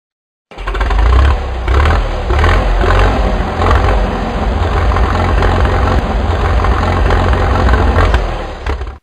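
A tractor engine runs steadily and loudly up close, a deep rumbling drone that holds for several seconds without a break.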